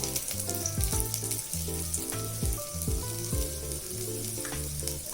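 Cloves, cinnamon and ginger fry in a little oil in a pressure cooker, a soft continuous sizzle that sits under louder background music with a plucked melody.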